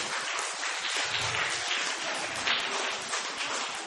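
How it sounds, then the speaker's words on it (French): Audience applause at a French storytelling performance, a steady wash of many hands clapping at moderate level for the whole stretch, with a brief low murmur near the start. "Applaudissez bien pour vous-même."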